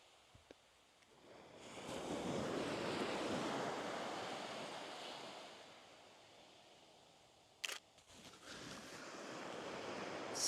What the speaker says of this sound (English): waiting for the right wave